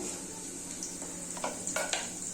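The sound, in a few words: chili tempering sizzling in a pan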